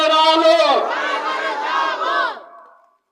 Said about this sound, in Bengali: আওয়াজ তুলো, আল্লাহ বড়, আল্লাহ বড়, আল্লাহ বড়, আল্লাহ বড়, আল্লাহু আকবার বলে